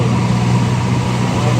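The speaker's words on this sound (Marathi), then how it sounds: "गाडी येते" A car engine hums steadily and close on the Anjarle creek bridge in Konkan, a continuous low drone that holds level throughout with no clear rise.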